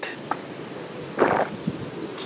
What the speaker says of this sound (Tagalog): Bukod sa malamig, nagsisimula ng pag-ingay yung mga kuliglig.